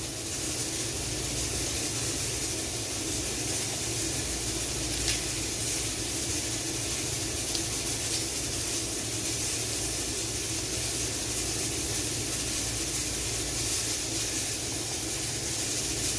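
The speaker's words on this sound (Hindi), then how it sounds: "पीछे आपको आवाज़ें आ रही होंगी क्योंकि हमारा जो कुकर की सीटी है वो चल पड़ी है" A continuous steady hiss of steam from a pressure cooker whistle venting while cooking mutton paya, holding at an even level for the whole stretch.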